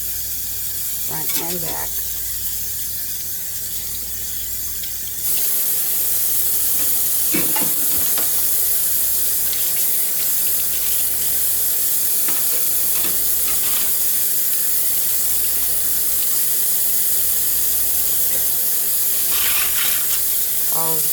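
Tap water runs steadily over dishes and bunched silverware while they are rinsed in a kitchen sink, a continuous hiss with occasional clinks, with a person talking over it.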